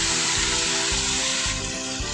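Meat drops into a hot pan and sizzles loudly and steadily in a home kitchen, a broad hiss that runs throughout with faint low clatter beneath and no voices.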